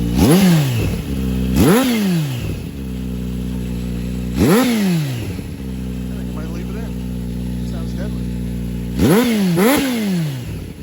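A Kawasaki ZH2 motorcycle fitted with a Scorpion Serket slip-on exhaust revs in four sharp throttle blips over a steady idle, close and loud.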